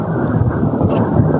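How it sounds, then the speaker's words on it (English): Rain and low rumbling thunder fill a caller's background, a dense, steady wash of noise heard over a phone line without talk. "You got rain in the background?"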